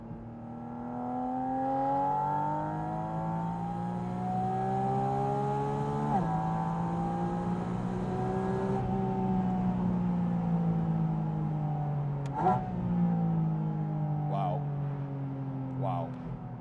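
A Porsche 718 Spyder RS, open-top, screams up toward 9,000 RPM in repeated loud pulls, its engine note climbing steadily then dropping sharply at each gear change, close and dominant throughout.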